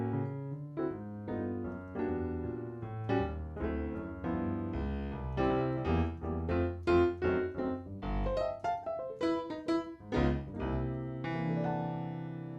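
The Giant virtual piano, set to its default patch, plays a flowing sequence of notes and chords at moderate volume, with sustained tones ringing between strikes and no speech.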